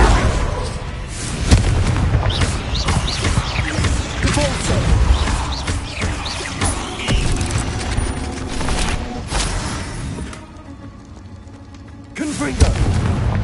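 Repeated Confringo blasting-spell explosions go off in a Harry Potter video game inside a cave, with deep booming blasts and rumbling debris, loud and continuous, and a brief lull before a final thump.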